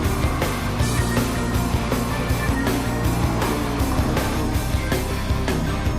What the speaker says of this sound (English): Sounds like Stephanie really pushing that car up there.